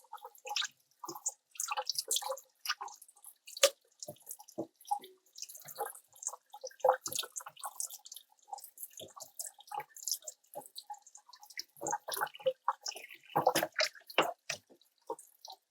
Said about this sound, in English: We drain the water off the beef.